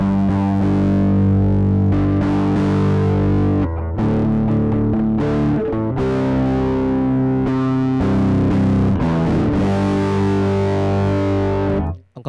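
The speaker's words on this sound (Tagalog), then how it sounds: "Next natin, yung ating last na pedal. Yung ating OC drive o yung OCD raw." An electric guitar runs through a Joyo OCD overdrive pedal, playing thick, heavily distorted chords and riffs with brief pauses for about twelve seconds, loud and close with no talk.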